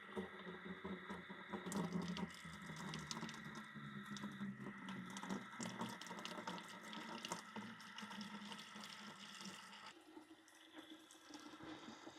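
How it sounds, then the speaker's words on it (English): Continuous rushing and splashing of water flushing vinegar and debris from a tankless water heater's valve, steady and close for several seconds before the flow changes slightly near the end. "we're going to flush out the vinegar and any debris that might be left in there"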